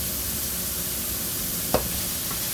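Food browns in a pan before chopped tomato goes in, giving a steady, even sizzle throughout, broken once by a single sharp clack of a utensil.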